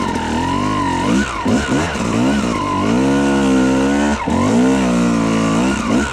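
A dirt bike on singletrack trail spins its rear tire and skids on dirt, its engine revving loud and close with rising and falling pitch as the throttle is worked, without pause throughout.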